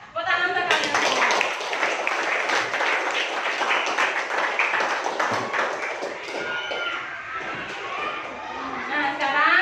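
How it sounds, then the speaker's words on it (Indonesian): Schoolchildren clapping together in a classroom at a teacher's prompt, a sustained burst of close, dense applause that runs throughout, with some chatter mixed in. "Tepuk tangan untuk kalian semua."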